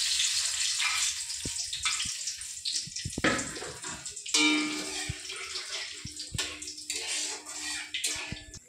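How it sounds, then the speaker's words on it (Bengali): Whole cumin, whole garam masala and dried red chillies hit hot oil, giving a dense, bright crackling sizzle with sharp pops and spits scattered throughout, steady and close with no voices. "আমার তেল গরম হয়ে গেছে, এবার আমি ফোড়নে দেব গোটা জিরে, গোটা গরম মশলা আর গোটা শুকনো লঙ্কা।"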